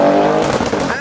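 A VW Golf R Mk7 launches hard in front of a crowd, its engine roaring loud and close with a rising, rough exhaust note over about a second.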